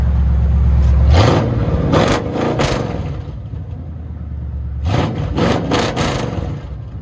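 Straight-piped 1979 Chevy 454 big block V8 rumbling at a deep, loping idle, then snapping through two bursts of sharp revs, each climbing quickly and falling back to the heavy idle, close and loud with no speech.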